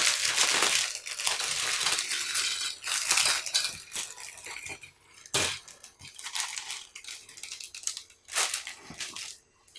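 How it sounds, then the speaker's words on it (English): Plastic resealable bag of parts for a 1/72 Modelcollect S-300 5P85D model kit crinkles and crunches close up in dense bursts, with brief pauses and sharp crackles. "So this is a resealable bag."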